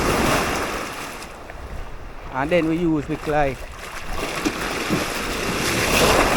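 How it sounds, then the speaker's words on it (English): Sea waves wash and rush against the shore in a steady roar with wind buffeting the microphone, while an igloo cooler is rinsed out in the sea water and someone speaks briefly over it. "I wash out the igloo down here in the sea water."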